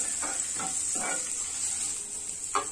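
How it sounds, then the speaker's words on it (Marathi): A spoon scrapes and stirs ground green chilli into a traditional Vidarbha kadhi mixture in a pot, several short soft swishing strokes spaced unevenly under a faint steady hiss. "1 ते 2 हिरव्या मिरच्या घेतलेल्या आहे ते पण घालून घेऊ आणि याला मिक्स करून घ्यायचं आहे"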